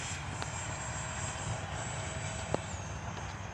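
An FMS 64mm EDF F-16 Thunderbirds RC jet in flight, a steady distant whine and rush holding level throughout, with a brief click near the end.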